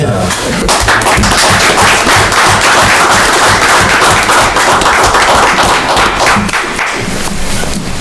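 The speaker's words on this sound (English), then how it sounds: "I say we should give a round of applause for all the work" Loud, close, continuous applause fills a town board meeting room, with many hands clapping in dense, even bursts that last the full eight seconds.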